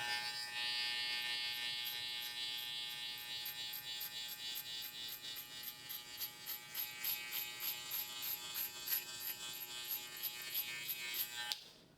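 Electric hair clippers fitted with a 1.5 guard, lever open, buzz steadily through a mid drop fade haircut, the hum pulsing in quick rhythmic passes as the blades move through the hair close by.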